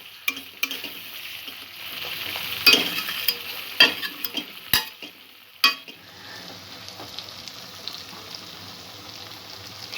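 Spice paste for a prawn curry sautés in hot oil, giving a steady close sizzle broken by repeated sharp scrapes and clacks of a spatula stirring against the pan.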